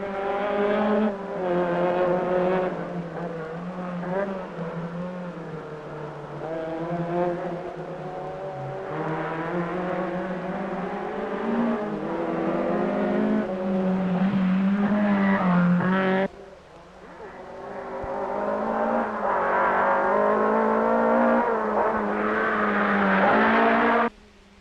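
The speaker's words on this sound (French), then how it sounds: "La lutte est toujours aussi serrée. En tête, bien sûr, Sandro Munari et sa Lancia Stratos. Et puis, l'habituel défilé des Fiat Abarth" Lancia Stratos and Fiat Abarth rally cars race at the 1975 Monte Carlo Rally, engines roaring and rising through gears as cars pass one after another, with a brief lull before another car screams up loudly.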